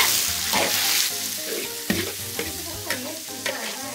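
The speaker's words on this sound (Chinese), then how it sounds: "先把肥肉放下去熬一下，先把姜放下去" Pork fat and ginger sizzle and fry in a hot wok, a steady crackling hiss with a few sharp clanks of a stirring utensil, close and loud with no talk.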